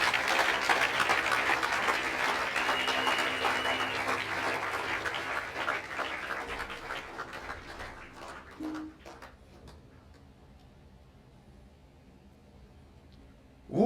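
A church congregation at a Holy Communion service claps and cheers in sustained applause for several seconds, then it fades out to near silence.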